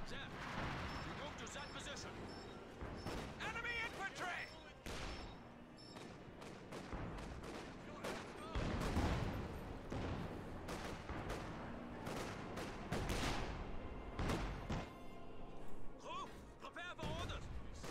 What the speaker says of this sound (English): So is that like an artillery gun? Oh, it's a mortar.